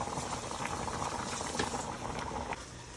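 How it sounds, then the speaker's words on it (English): Shrimp and tomatoes sizzling in palm oil in a pan for Brazilian bobó de camarão, a steady dense crackling hiss that holds evenly and close, with no voices. "Turn the heat up just a little bit, let that sizzle."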